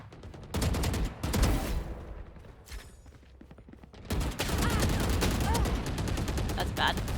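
Rapid bursts of gunfire in the video game Valorant, loud and close, with repeated sharp shots coming in clusters and a steady battle din, while a voice talks underneath.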